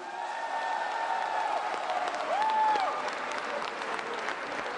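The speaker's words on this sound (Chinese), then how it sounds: "把掌声送给2位英雄" A boxing arena audience applauds two fighters after a twelve-round bout, steady clapping at moderate distance with a brief whistle-like tone over it, somewhat faint and continuous.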